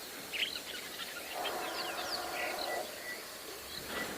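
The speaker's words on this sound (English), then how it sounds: "these bird calls are incredible this afternoon" Bird calls in the African bush at sunset, with scattered chirps and whistles over a steady insect and cricket hum, moderately faint and fairly distant.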